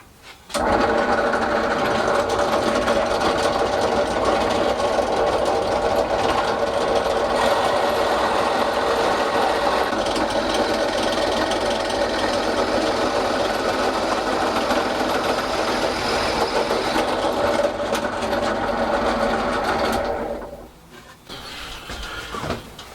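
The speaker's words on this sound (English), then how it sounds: "brad point bit, so it should follow the 2mm holes I drilled before" A drill with a brad point bit runs steadily through wood, following small pre-drilled 2 mm holes while a guitar neck is carved in a small shed. A continuous whirring drone holds for about twenty seconds, then stops, with no talk.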